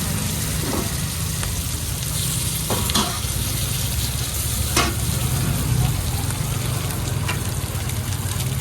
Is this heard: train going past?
no